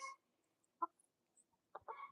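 Backyard chickens in the morning, a few short soft clucks and a brief burst of louder clucking, sparse and quiet with faint distant chirps between.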